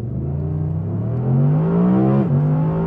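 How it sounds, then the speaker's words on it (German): A 2022 Audi R8 V10 Performance with 620 PS accelerates at full throttle, its engine note climbing steadily and loudly from inside the car, with a brief dip at a gear change before rising again. "Und was wir jetzt machen, ist gemeinsam durchbeschleunigen."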